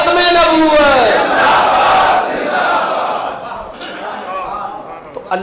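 Religious gathering crowd chanting the slogan Tajdar-e-Khatm-e-Nabuwwat, with many voices loud and close in a sustained, swelling collective shout that gradually fades.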